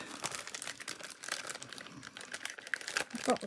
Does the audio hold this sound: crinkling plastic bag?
yes